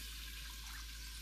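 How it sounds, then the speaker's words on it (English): Two cups of water pour into a hot pan to deglaze it while making birria de res, a soft, continuous splashing flow at close range. "I'm gonna add 2 cups of water to the pan"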